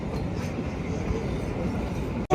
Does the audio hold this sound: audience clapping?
no